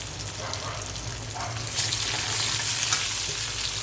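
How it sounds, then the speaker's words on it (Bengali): Cut eggplant frying in a pan, a steady loud sizzle with hissing oil that swells slightly halfway through, without any talking. "বেগুনটা ভাজবো।"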